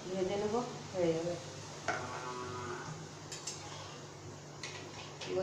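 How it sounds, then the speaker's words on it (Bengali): Luchi fry in hot oil in a home kitchen, giving a steady, moderate sizzling hiss, with brief voice-like sounds near the start and a few small clatters later. "তিনটে লুচি আছে, দেখো ভেজে নেব, হয়ে যাবে।"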